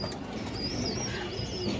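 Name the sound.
pigeons cooing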